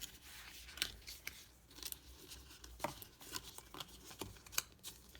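A paper mini pizza box is folded along its pre-scored lines, giving soft crinkles and sharp creasing snaps close by. The faint rustling comes in irregular bursts, with no one speaking.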